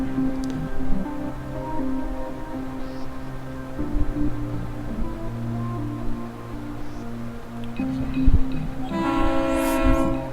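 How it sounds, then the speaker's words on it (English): Freight train in the video game Bridge Constructor Trains, a loud rolling rumble with blaring horn tones and clanks from the wagons, continuous throughout, rising near the end without speech. "Let's try freight train."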